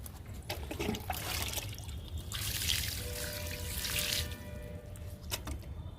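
Water trickling and splashing onto spinach plants in a home garden, a steady pouring flow that swells in the middle and tapers off, with faint background noise and no talk.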